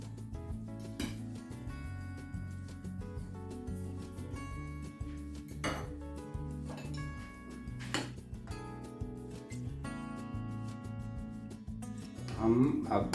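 Chaat masala being stirred into raita in a bowl, light spoon clinks and taps against the dish sounding intermittently under music and brief speech.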